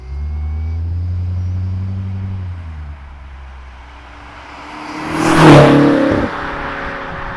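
BMW F10 M5 with a 650 hp 4.4L twin-turbo V8, its exhaust droning in low, shifting tones that ease off and then swell into a loud, brief roaring burst before settling back to a steady hum.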